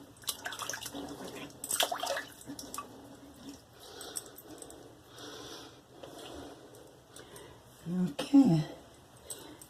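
Water is splashed and scooped onto a face before wet shaving, with several soft wet bursts and drips spread out, plus faint squishing near the end.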